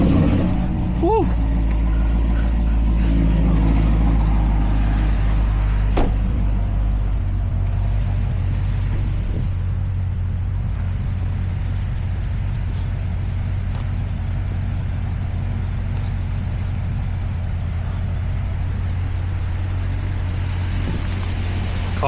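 A 2025 BMW M3 cruises on winding backroads at night in the rain, its engine a steady low drone under constant road and rain noise, with a brief rise in revs near the start.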